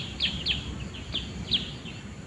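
Birds chirp in a forest in the afternoon, with a steady series of short, bright tweets repeating every half second or so, fairly close over a constant hiss of insects and ambient woodland noise.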